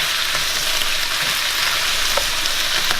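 Baby bella mushrooms sizzle steadily in a hot pan for shrimp fried rice, a close, dense frying hiss with a few soft pops and stirring sounds and no talking.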